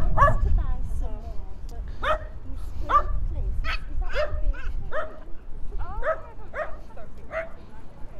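A dog barks repeatedly nearby on a beach in North Shields, UK, sharp yips and barks in irregular bursts, over a low rumbling background with a person talking.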